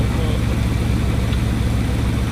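A Bugatti engine runs steadily after a cold start, a loud, constant low rumble at close range with faint background talk.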